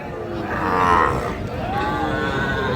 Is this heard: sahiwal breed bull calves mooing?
yes